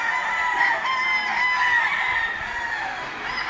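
Several gamecock roosters, gold bulik fowl, crow over one another continuously at a hobby expo, loud and close, their drawn-out calls overlapping with steady poultry noise and no pauses.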